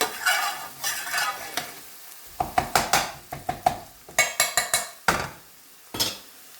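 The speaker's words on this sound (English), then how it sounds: "Just stir that in. And just let it cook for about 30 seconds to a minute." Monkfish curry is stirred in a pan, with a soft sizzle at first and then a run of sharp, close utensil knocks and scrapes against the pan in an irregular rhythm.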